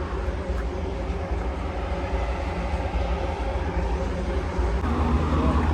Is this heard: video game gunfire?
no